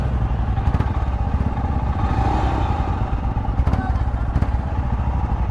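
Royal Enfield Scram 411 motorcycle pulling out at a big-bike test-drive event, a steady close engine rumble with light mechanical clatter running throughout, no talk over it.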